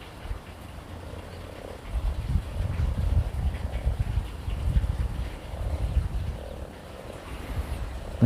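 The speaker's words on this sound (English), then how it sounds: "there's a frog over there. I can hear him croaking." A frog croaking somewhere off on an outdoor walk, low repeated croaks coming in bursts, moderately loud, with wind rumbling on the microphone.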